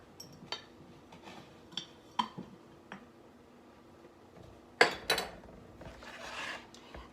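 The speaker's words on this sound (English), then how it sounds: "Add your flour and just keep mixing." Bread roll dough being mixed with added flour in a bowl: sparse, light clinks and scrapes of a utensil against the bowl, with a brief louder cluster of knocks near the end.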